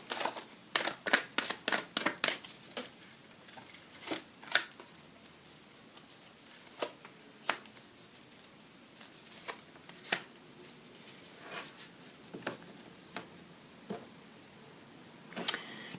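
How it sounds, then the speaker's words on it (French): Tarot cards being shuffled and drawn by hand, with a quick burst of crisp riffling snaps followed by sparse, soft card flicks and slides in a quiet room. "Je vais tirer 3 cartes encore."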